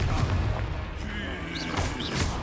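Confringo spell blasts in the video game Hogwarts Legacy, heavy booming bursts layered over dense game effects and music, with a short crackling streak near the end.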